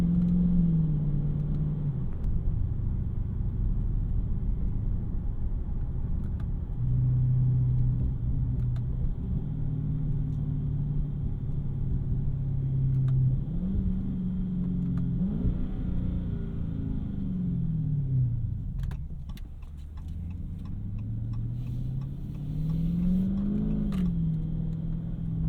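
A 2017 Dodge Charger Daytona 392 V8 rumbles deeply from inside the cabin while driving, holding steady tones before dropping and rising again as it downshifts with throttle blips, loud and continuous.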